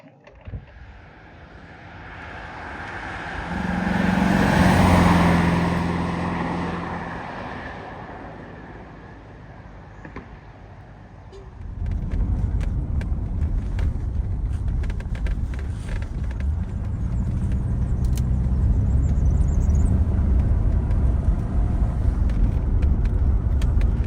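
A 1993 Mercedes-Benz W126 500SE on the road: a passing swell early on, then a steady, loud engine and road roar with wind buffeting once the car gets moving, no talking.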